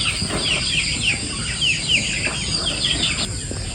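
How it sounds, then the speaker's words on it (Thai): Chickens cluck and squawk inside a pen on a chicken farm. The calls come close and loud, overlapping one another with a few sharp upward cries and some wing flapping, and no one speaks. "แมนคอกฟาร์มของเพิ่นที่เลี้ยงไก่ลาบ"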